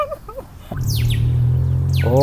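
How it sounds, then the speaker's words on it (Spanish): Birds outside a house in Peru chirp in short bursts at the start and end, partly over a loud, steady low hum that comes in partway through. "acá también se logran escuchar los pajaritos"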